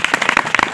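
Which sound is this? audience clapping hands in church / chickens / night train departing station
audience clapping hands in church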